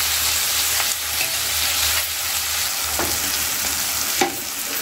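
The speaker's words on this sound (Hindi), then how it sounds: "इसको फ्राई होने देते हैं थोड़ी सी हल्की सी" Ingredients fry lightly in a pan with a soft, constant sizzle and a few faint stirring taps and scrapes, heard up close without any talking.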